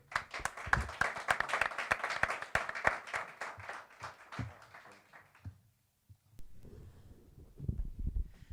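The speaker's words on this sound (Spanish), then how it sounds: "Fuerte ese aplauso, Monoter." A small studio audience claps for a guest arriving on a live radio show, a few hands clapping loudly up close for several seconds before fading, then low murmurs and rustling.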